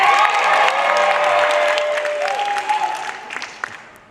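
Audience applause at an anime convention Q&A panel, a dense burst of clapping with cheering and whistles that starts loud, then gradually fades.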